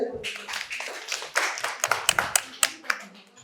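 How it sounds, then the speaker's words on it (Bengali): Audience applause at a quiz prize-giving at Santiniketan Medical College and Hospital: scattered claps build into a sharp, uneven clapping from a small crowd, with a voice talking over them. "সবাই একটু হাততালি দেবে"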